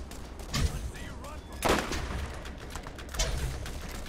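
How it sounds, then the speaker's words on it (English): Rocket fire from an enemy in the Borderlands video game, three loud blasts spaced about a second apart over a steady background din, with a voice talking at times. "It like shoots rockets."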